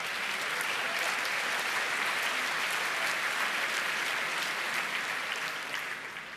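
Steady, dense applause fills a hall at a hacking conference talk, sustained and even before tapering slightly at the end, with no speech over it.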